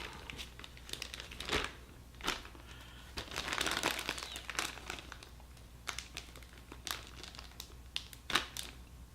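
Plastic crinkling and crumpling of a Ziploc bag as air is pressed out around marinade, a run of close, soft rustles and crackles with no talk.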